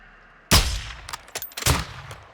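Sniper rifle gunshots in a first-person shooter on veteran difficulty: one heavy, loud report followed by a few sharper shots and their echoes, with no talking.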